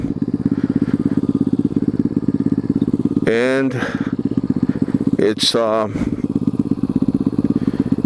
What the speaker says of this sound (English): The only thing about this particular bike is it is a 125cc motorcycle.